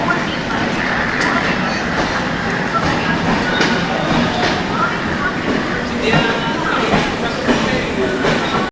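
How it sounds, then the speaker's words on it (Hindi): A passenger train pulls out of Nagpur railway station on the Hyderabad to Gorakhpur special service, with a steady loud rumble and faint rail clatter filling the whole stretch and voices murmuring underneath. "कुछ इस तरीके से ट्रेन छूट गई है, देखिए। नागपुर से निकल रही है अब।"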